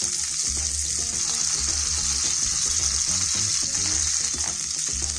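Chicken gola kebabs and tomatoes frying in a pan, a loud steady sizzle with bright hissing spatter and soft clatter as the pieces are turned, no voices.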